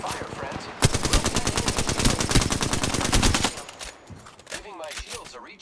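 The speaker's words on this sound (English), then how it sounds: "Getting shot at. I am taking fire, friends." Rapid automatic gunfire in Apex Legends rattles loud and close in one sustained burst of about three seconds, then scattered quieter shots and game sounds trail off.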